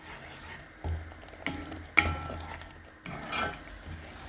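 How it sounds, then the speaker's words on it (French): Pulp sauce with added water simmering in a pot while a utensil stirs it, giving soft bubbling with intermittent scraping and clinks against the pan, fairly close and moderate in level, with no voices. "Comment ça mijote bien là."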